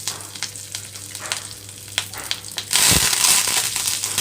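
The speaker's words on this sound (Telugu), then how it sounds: "తాలింపు అంతా వేగేటప్పుడే కరివేపాకు రెండు కూడా వేస్తున్నాను" Tempering seeds and dry red chillies crackle in hot oil with light pops, then curry leaves hit the pan and a loud, steady sizzle bursts up for potato fry with fenugreek leaves.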